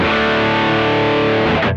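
A loud, heavily distorted electric guitar chord through a hand-built Mosky distortion pedal rings out and sustains for under two seconds before being abruptly cut off.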